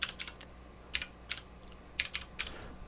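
Someone types a command on a computer keyboard while setting up a CompactFlash card for an Amiga 1200, producing quick clusters of crisp, close key clicks with short pauses between bursts.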